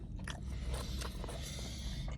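Quiet, close chewing of crunchy garlic cheese bread from a pizza restaurant, with soft crackly bites and squishy mastication continuing steadily for a couple of seconds.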